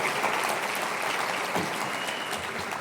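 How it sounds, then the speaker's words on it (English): Sustained applause from a banquet audience, many hands clapping in a dense, steady patter at moderate distance, with a few louder individual claps standing out. "give her a warm round of applause"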